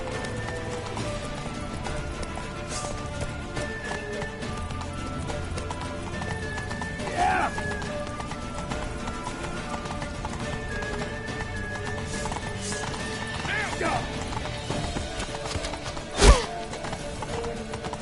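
Steady clip-clop of horse hooves at a brisk pace in a PS4 video game, with a horse whinnying briefly, under dramatic background music and occasional shouting.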